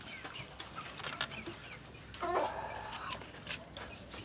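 Laying hen clucking while laying an egg, a few short clucks and one louder squawking burst midway, heard at close range over faint background farm noise.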